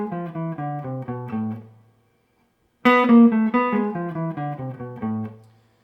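Two short melodic phrases in a harmonic minor scale with two half steps, played on a keyboard instrument in a jazz lesson on Barry Harris's half-step rules; clear stepwise notes, a brief pause, then the second phrase starting brighter and louder.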